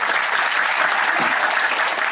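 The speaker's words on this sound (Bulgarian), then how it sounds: "Аплодисменти за Боряна." An audience applauds Boryana, a multiple European champion in rhythmic gymnastics, with dense, loud, continuous clapping from a crowd throughout, no voices over it.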